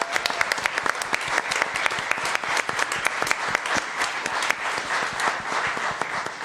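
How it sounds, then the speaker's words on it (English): Steady applause from an audience at a school district governing board meeting honoring Brain Bowl champions, many hands clapping briskly and evenly for several seconds. "Let's give our Brain Bowl champions a round of applause."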